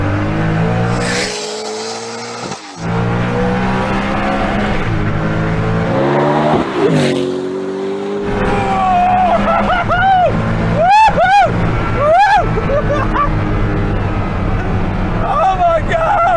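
A Hennessy Venom supercar pulls hard in a second-gear roll-on, its engine roaring up through the revs with rising harmonic sweeps and repeated surges, loud and close, with voices talking over it early on.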